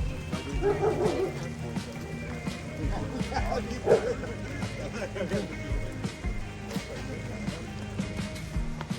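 A dog gives several short barks and yips outdoors, loud and nearby, mixed with people talking and faint background noise.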